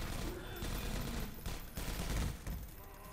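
Automated turrets firing in Half-Life 2 Episode One, a dense, continuous burst of rapid gunfire that stays loud and close throughout, swelling slightly near the end with no talking.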